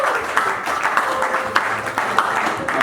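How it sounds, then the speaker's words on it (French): A congregation clapping at a church wedding in Portland, Maine, loud sustained applause from many hands with rhythmic accents, with voices mixed in. "Let's applaud for the Lord."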